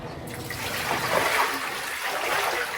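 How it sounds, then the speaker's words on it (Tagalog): Water poured out of a washing basin during hand laundry, a steady splashing trickle that runs continuously for a few seconds at moderate loudness with no voices over it. "tapon mo na yung tubig na yan"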